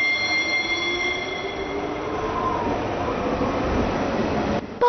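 Cartoon train running on rails, a steady loud rumble of wheels with sustained high squealing tones drifting across, ending in a brief cutoff.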